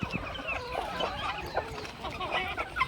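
Native village chickens and guinea fowl scramble over scattered fish waste, filling the air with steady clucking and scattered calls that overlap continuously at a moderate, close distance.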